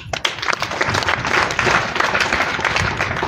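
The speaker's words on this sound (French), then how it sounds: "Des applaudissements pour vous et pour nous tous." Audience at a ceremony launching a Junior Chamber International orphan-aid project breaks into steady, dense applause, a sustained wash of many hands clapping close by.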